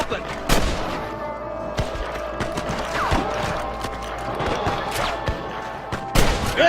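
Gunfight from the video game Red Dead Redemption: sharp gunshots crack at irregular intervals over a steady ambient bed, with a couple of louder bursts near the end.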